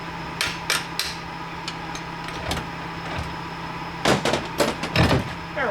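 A hammer strikes a 40 horse Johnson outboard motor in scattered, sharp metallic blows, some single and some in quick pairs, loud and near, with quiet handling noise in between.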